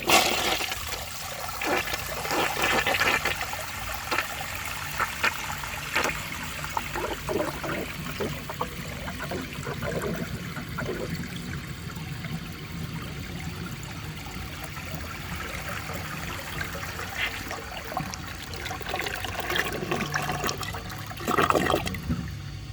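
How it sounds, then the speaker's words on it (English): A 1982 Briggs Conserver toilet with a clogged siphon jet flushes in a loud, gushing rush of water that swirls and gurgles for many seconds, then settles into trickling refill before another surge near the end. "Now let's see how it flushes with a clogged siphon jet."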